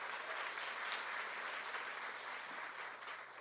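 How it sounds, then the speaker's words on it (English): A room full of people applauding a pair of speakers at a food talk event, dense and even clapping that holds steady at a moderate level the whole time. "Let's give them a round of applause."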